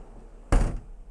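A curved shower door in a 2014 Leisure Travel Serenity motorhome swings shut with a single close, solid thunk followed by a brief rattle as it settles, alone in a quiet room.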